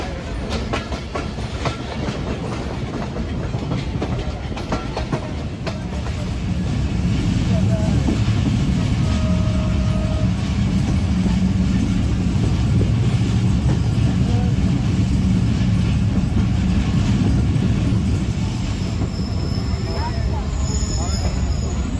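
Bangladesh Railway's Rupsha Express rolling along after leaving Natore station, a steady close rumble of wheels and carriage with clickety-clack, swelling louder partway through as the train gathers speed.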